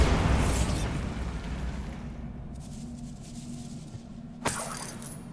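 A Bombarda spell explosion in a video game booms loudly at the start and decays into a lingering rumble, followed later by a sharp single crack.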